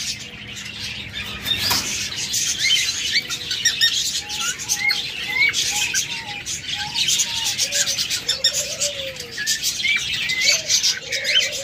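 Captive budgerigars and lovebirds chirp and tweet continuously in a busy, overlapping chatter, with short wing flutters mixed in at moderate loudness.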